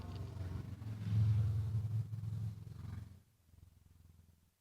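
A motorcycle rumbles past, its engine swelling to a loud peak and then fading into a lower, steady purr as it moves away, with no talking.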